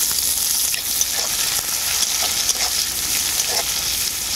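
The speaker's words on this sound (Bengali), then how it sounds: "এরপর আমি এই তেলের মধ্যে দিয়ে দেবো কেটে রাখা পেঁয়াজ।" Chopped onions fry in leftover fish-frying oil topped up with mustard oil, giving a steady, dense sizzle that stays loud and even throughout, with faint stirring clinks now and then.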